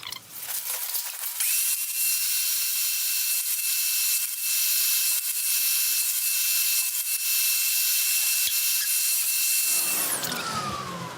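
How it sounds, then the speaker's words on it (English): Dust extractor switching on and running with a loud, steady hissing whine during wood turning of a vase with a pewter inlay, then winding down near the end. "I might just quickly get the extraction"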